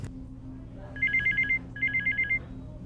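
A telephone rings with two bursts of rapid electronic trilling tones separated by a short pause, clear and moderately loud over a low background hum.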